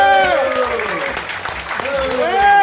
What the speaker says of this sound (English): Clap it up as loud as you can for Stavros Halkias.